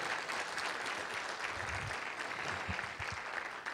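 Congregation at a church sermon clapping steadily throughout, a dense, continuous round of applause filling the room with a few louder claps near the end and no speech.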